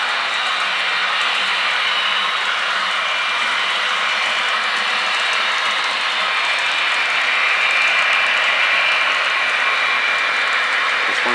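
A continuous, steady hissing rumble of a model train running on a home layout's main line, unbroken and fairly loud throughout.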